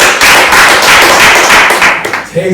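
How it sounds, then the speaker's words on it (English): An audience gives a loud, dense round of applause welcoming a singer onto a talk show. The clapping stays close and sustained, then thins out and stops near the end. "A big round of applause."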